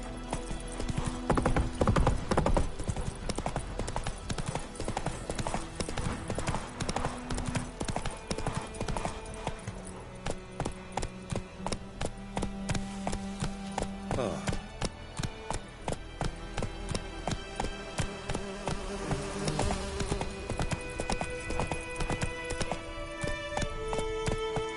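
Roach, a horse in The Witcher 3, gallops on with a fast, continuous clip-clop of hooves, loud and close, over a dense music and game-sound bed, with a whinny early on.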